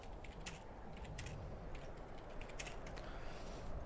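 Keyboard typing of a chat message during a Skyrim game session, a light patter of quick key clicks over a steady noisy background hum, close but fairly quiet.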